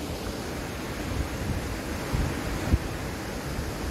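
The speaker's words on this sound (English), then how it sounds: "made it to the waterfall." Rushing water from a waterfall in the Great Smoky Mountains forms a steady, dense broadband roar with no gaps, loud and close.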